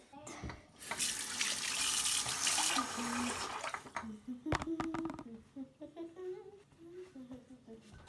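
Water from a tap runs steadily into a sink for about two seconds as skin is washed before a temporary freehand-ink tattoo, then stops amid splashes and handling while people speak nearby.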